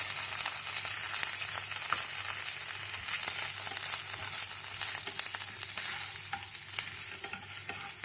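Chopped onions fry in a pan for paneer cutlets, giving a steady, moderately loud sizzle with faint stirring scrapes throughout and a low constant hum beneath.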